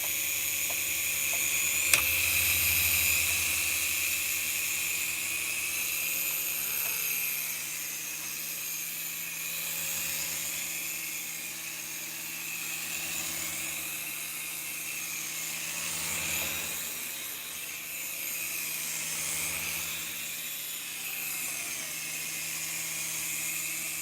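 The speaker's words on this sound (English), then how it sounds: "That is the Shark helicopter." A helicopter drones on continuously with a whining, buzzing tone, rising and falling slightly in strength over the whole stretch.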